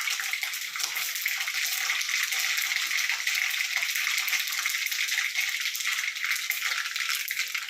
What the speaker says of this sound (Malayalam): പിന്നെ ഒരു പാൻ വെച്ച് ഇതിലേക്ക് കടുകിട്ട് കൊടുക്കുക